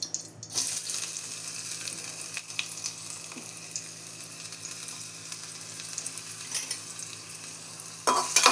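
Soaked poha sautés in ghee in a pan, a steady close sizzle with occasional scrapes and stirring clicks from the spoon, alone without talk.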